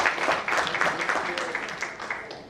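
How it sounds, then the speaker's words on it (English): Audience applause at a formal talk on preparing for private equity, welcoming a guest speaker onstage; dense steady clapping from a crowd fills the whole moment at even strength without pause. "Please join me in welcoming Dr. Amit Verma with a louder applause."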